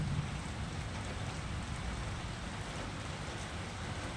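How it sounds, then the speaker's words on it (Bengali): Steady rain falls at night over a deserted market during a thunderstorm with lightning, a constant close hiss of drops across the whole span with no voices. "তো বুঝতে পারছেন বৃষ্টি হচ্ছে"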